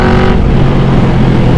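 A Yamaha Vmax cruiser motorcycle accelerates hard with a loud, close engine roar that stays heavy and continuous through a short burst, over rushing wind noise.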